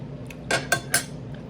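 Cutlery scrapes and clinks against a plate as a cooked steak is cut for a first bite, three short sharp metallic strokes close up in a quiet room.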